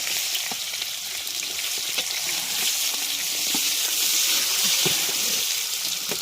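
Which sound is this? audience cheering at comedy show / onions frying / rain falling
onions frying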